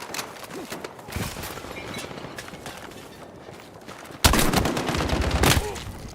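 Bursts of gunfire from Battlefield 6 crack out in quick volleys, with scattered single shots giving way to a loud, dense rapid-fire fusillade in the second half, close and punchy.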